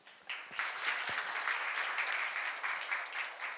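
A conference audience at an international energy and sustainability event bursts into applause, rising quickly after a quiet start into steady, moderately distant clapping from many hands that continues to the end.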